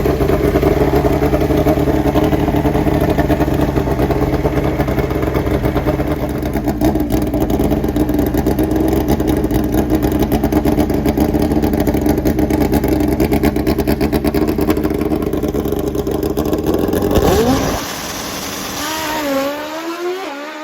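A Kawasaki drag racing motorcycle in the pro category at a drag strip roars loud and close in a sustained engine blast. Near the end it drops away to a fainter, rising and falling rev.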